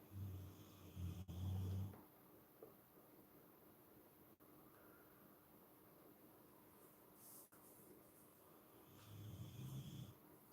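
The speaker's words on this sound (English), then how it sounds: "That is the dog snoring, Matty Dan, yeah." A dog snores in a quiet room, a few low rumbling snores at the start and again near the end, with faint steady hiss in between.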